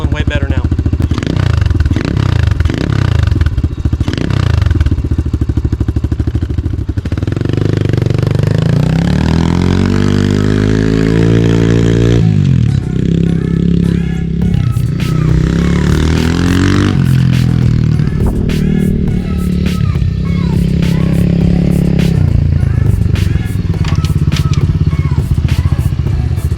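A cheap Amazon 125cc dirt bike engine runs close by with a steady, rattly idle that rises briefly in a rev partway through, loud and continuous.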